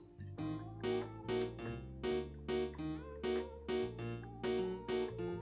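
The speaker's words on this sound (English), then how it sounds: "So I used this FL keys with a preset that I called Mauritius keys." An FL Keys piano on a custom Mauritius keys preset plays a bouncy, evenly spaced run of chords and notes, clean and up front with no voices.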